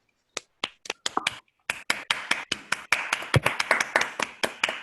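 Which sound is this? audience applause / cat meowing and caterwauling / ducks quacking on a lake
audience applause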